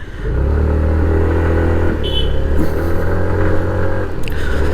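A TVS Jupiter 125 scooter engine hums steadily up close as the scooter rides along, with faint rattles and a brief higher whine.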